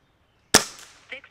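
Air Arms TX200 MkIII air rifle firing a single shot: a sharp, close crack after a moment of silence, followed by a short decaying ring and a faint mechanical clunk.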